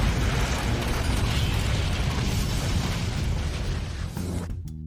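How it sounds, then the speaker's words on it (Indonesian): A bazooka shot explosion sets a food kiosk ablaze in a film scene, heard as a sustained loud roaring burst and rumble that holds steady for several seconds, then cuts off abruptly near the end. "terbakarnya kios disebabkan oleh tembakan bazooka"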